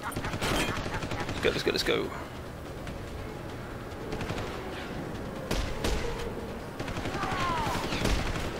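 Sniper fire in the video game Deus Ex: Human Revolution: The Missing Link, scattered sharp shots and bursts cracking over a busy game backdrop, with someone speaking briefly partway through.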